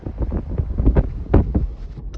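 Strong coastal wind storm gusting around 80 km/h by the sea, roaring in loud buffeting gusts against the microphone with rumbling surges throughout.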